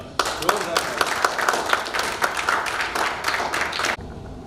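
Applause from an audience at a public speaking event welcomes a speaker to the stage, with many distinct claps in a lively, fairly loud burst that stops abruptly near the end.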